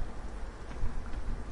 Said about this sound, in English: I like this rain, man.